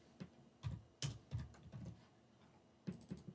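Keys on a computer keyboard are tapped in short irregular bursts, quiet and close, with brief pauses between clusters of keystrokes.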